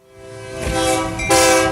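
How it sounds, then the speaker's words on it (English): A loud train horn blares in two sustained blasts, used as a radio sponsor sound effect for a Mississippi deli chain, heard alone without talk. "Because here comes the Junction train."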